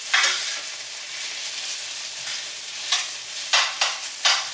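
Caramelizing onions stirred in a pan: a steady sizzle with a few sharp scraping and clattering strokes of the utensil toward the end, close by and alone without talking.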